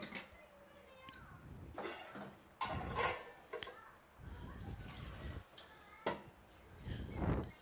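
Cooked pasta tips into a pan for mac and cheese, with scattered clattering knocks and soft scraping of metal cookware, some sharp and some muffled, amid light background voices.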